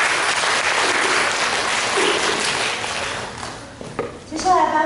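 A hall audience applauds at the prize ceremony of the 2015 Asia Cup international music competition, a dense, sustained clapping that gradually thins out before a voice over a loudspeaker starts at the very end.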